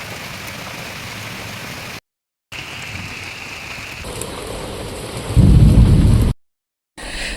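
Steady rain falls in wet monsoon weather, a dense hiss broken by brief dropouts, with a deep low rumble of thunder swelling near the end; no one speaks.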